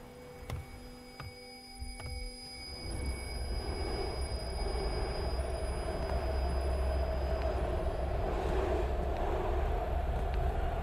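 Steady low rumble of a tram rolling along in the video game Here They Lie, preceded by a few short mechanical clicks and tones, with no talking.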